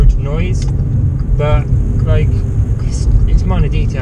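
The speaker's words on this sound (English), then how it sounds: "you do get quite a lot of like road noise in here" Steady road and tyre roar fills the cabin of a VW Up GTI on the move, a constant low rumble running under close talking throughout.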